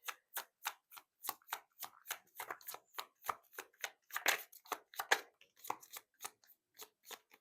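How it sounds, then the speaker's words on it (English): Tarot cards are shuffled and handled, giving a quick run of crisp, close riffling and snapping strokes in an irregular rhythm, quiet and alone without speech. "I'm going to pull a few more cards from this deck"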